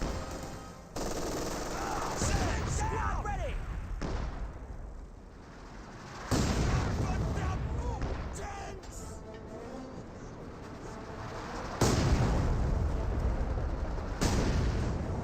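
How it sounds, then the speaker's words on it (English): Rocket artillery barrage from a Panzerwerfer in Company of Heroes 2, heavy rolling blasts and crackling impacts surging in loud waves over the battlefield, with dense continuous rumble between bursts and brief quieter gaps. "Panzerwerfer barrage raining on in"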